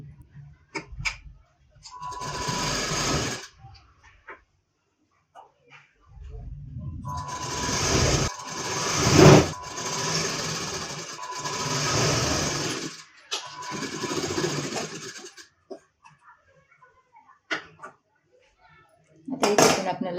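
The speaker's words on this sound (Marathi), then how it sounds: "आणि इथे पण सविस्तरपणे शिलाई करून घ्यायचं आहे." A sewing machine stitching a blouse runs in several bursts of steady whirring and rapid clatter, separated by pauses, with someone talking between and over the stitching.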